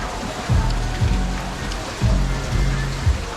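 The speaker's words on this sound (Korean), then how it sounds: "오늘 비가 엄청 많이 오고 있고 오랜만에 이렇게 비 맞으면서 운전을 하는 것 같아요." Torrential rain pelting down on a boat out on the water, loud dense patter broken by deep gusty rumbling bursts, with no voices.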